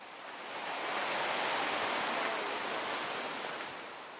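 Woodland waterfall in the Lake District near Elterwater, a steady broadband rushing roar at moderate distance that swells and then eases slightly, with no voices.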